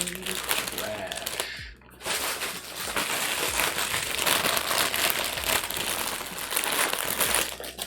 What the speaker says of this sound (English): I'm sure that crinkling sounds great.